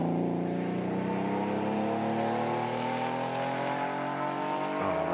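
A 1980s Porsche 911 race car at a hillclimb sprint holds a loud, sustained engine note, its harmonics gliding slowly downward as it passes, with no talk over it.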